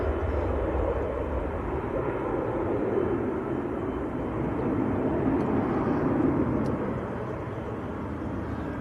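An Aer Lingus airliner arriving from Bridgetown at Manchester Airport, heard as a steady, loud, broadband jet roar that stays fairly constant throughout, swelling slightly midway and easing a little near the end.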